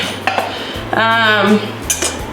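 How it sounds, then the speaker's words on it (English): A metal pan from a thrift store, meant for a makeshift double boiler, is handled in a home kitchen, with a close, loud clatter and a ringing scrape as it knocks against other cookware. "So I'm gonna get my pan."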